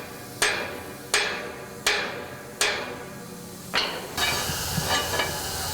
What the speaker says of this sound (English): You can hammer it in from there.